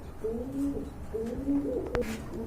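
Pigeons in a loft give soft, low, rolling coos, two or three repeated phrases heard nearby, with one sharp knock near the end against quiet room noise.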